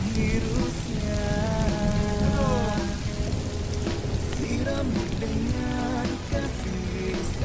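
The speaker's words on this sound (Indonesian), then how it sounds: "Iya, hujannya gede banget nih." Heavy rain pours steadily onto a surface, a dense continuous hiss and patter, loud and close throughout, with faint voices and other background sounds mixed underneath.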